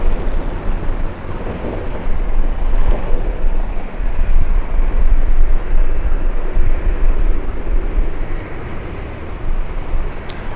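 WestJet airliner taking off at Los Angeles International Airport, a loud, sustained broadband jet roar holding steady throughout with heavy low rumble, no voices over it.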